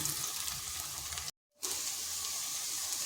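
Pieces of gathi kochu (taro) fry in a pan with a steady bright sizzle that stops briefly for a moment and then carries on at the same level.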